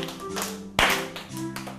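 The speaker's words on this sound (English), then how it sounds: "I can clap my hands." A single crisp hand clap cracks out midway through a children's story-time song, set against light music with a few softer taps around it.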